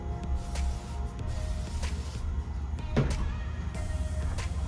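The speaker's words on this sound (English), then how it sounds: "I'm gonna use my basting spray." Basting spray misting a sheet of paper: a few short hissing bursts spaced apart over steady background hum, close by.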